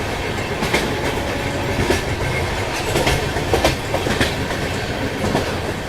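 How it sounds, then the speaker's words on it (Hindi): A passenger train runs across a very long bridge, roughly 3000 metres, between Assam and West Bengal, its steady loud rumble dense with rhythmic clickety-clack wheel beats and no voices. "अभी भी अपनी ट्रेन वो चल रही है।"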